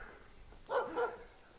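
A dog at Hangdong Market in Chiang Mai, Thailand gives two short, fairly faint barks in quick succession over quiet background hum, with no talking.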